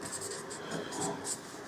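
Soft scratching of a pen or pencil writing a math product by hand, faint and continuous, with light strokes throughout.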